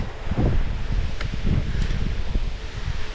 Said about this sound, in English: That wind's getting meaner.